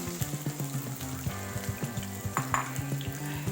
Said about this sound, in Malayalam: നന്നായിട്ട് പിഴിഞ്ഞെടുത്ത സോയ നമ്മൾ ഈ എണ്ണയിലേക്ക് ഇട്ട് നമുക്കൊന്ന് വറുത്തെടുക്കാം